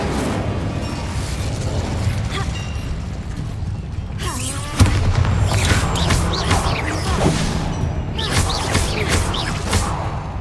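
A Bombarda blast spell in Hogwarts Legacy erupts midway as a sudden thud over busy game noise, followed by creaking, clattering debris and scattered pops against a steady rumbling background.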